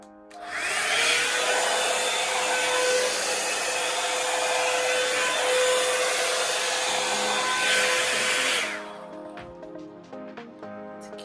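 A Revlon hair dryer brush on its cool blast setting roars steadily at close range for about seven seconds, then cuts off, leaving faint handling rustle and clicks.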